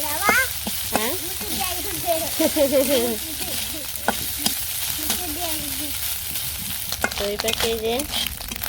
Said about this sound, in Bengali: আমার মাছ ভাজি হয়ে গেছে এখন নামিয়ে নিই